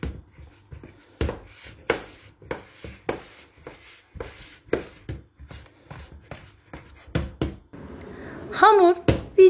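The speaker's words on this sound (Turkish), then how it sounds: "suyunun tamamını döküp kaşıkla yoğurmaya devam ediyorum" A spoon kneads wet dough in a bowl, making repeated soft knocks and sticky slaps at an irregular pace, close and moderately loud, while a voice talks over it.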